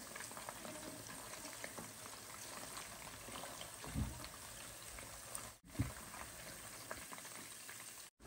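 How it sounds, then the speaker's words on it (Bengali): Chicken pieces fry in a shallow layer of oil, giving a steady close sizzle and crackle with a couple of brief louder bursts as pieces are turned. "চিকেন ফ্রাই করা হয়ে গেছে।"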